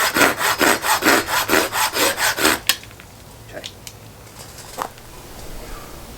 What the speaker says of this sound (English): So I'm just going to saw the end off before I cut it up with the knife.